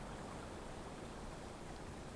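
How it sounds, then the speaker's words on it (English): Gently rushing water, a soft, steady stream-like wash of broadband noise that stays faint and even throughout with no other sounds. "listen to the sound of the gently rushing water"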